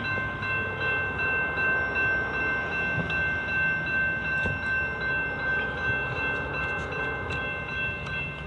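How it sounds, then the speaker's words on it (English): A train arrives in Chesterton, Indiana, with a steady, loud rumble and sustained horn tones carrying over it, heard alone without talk. "First train of the day, incoming."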